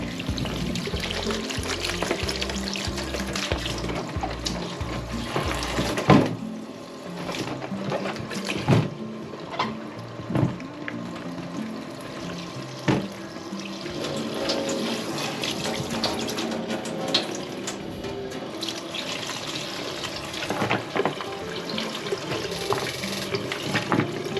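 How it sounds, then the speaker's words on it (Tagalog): Tap water runs steadily into a sink while vegetables for sinigang are washed, with splashing, pouring and occasional sharp clunks and knocks of produce and dishes over the constant flow. "habang niluluto natin yung ating karne ay hugasan muna natin yung ating mga gulay"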